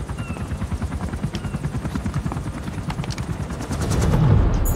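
Gunfire aimed at a helicopter's blades in Metal Gear Solid V: The Phantom Pain, rapid repeated automatic shots in a steady rhythm over the thumping of rotor blades, loud and close.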